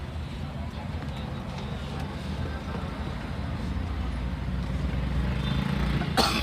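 A man inside a moving vehicle gives a single sharp cough right at the end, rising briefly above a constant low engine and road rumble.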